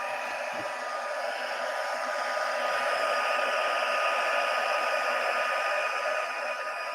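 Heat tool blowing a steady, loud airy roar as it melts embossing powder on cardstock, continuous for the whole stretch with no talk.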